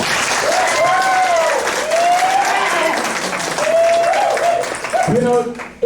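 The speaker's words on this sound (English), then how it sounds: "Big round of applause for that." A crowd at a high school senior party hypnotist show applauds in a dense, sustained wash of clapping, with cheering voices rising and falling over it.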